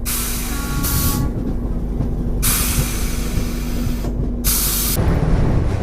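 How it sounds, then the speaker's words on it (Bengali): A passenger train crosses a bridge over the Ganges near Benares. A steady, loud rumble and hiss runs throughout, with bursts of brighter rushing noise and a faint constant hum underneath. "আমাদের ট্রেন গঙ্গার উপর দিয়ে পার হতে থাকে"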